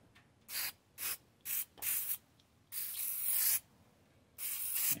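An aerosol can of penetrant hisses onto an Austin-Healey Sprite's Lucas distributor in several short bursts, then one long spray and a final burst, close and clear against near silence.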